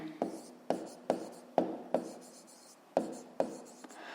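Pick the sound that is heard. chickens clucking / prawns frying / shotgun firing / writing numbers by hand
writing numbers by hand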